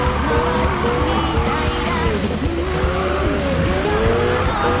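Screeching tire squeal from a sliding Mazda RX-7 FD in the racing game Need for Speed (2015), with a steady engine drone throughout and wavering squeal tones as the car drifts.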